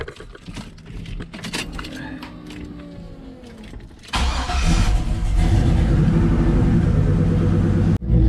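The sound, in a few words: truck engine starting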